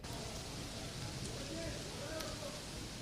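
Heavy rain falling over the city of Jaipur, a steady dense hiss with no breaks, with faint talk underneath.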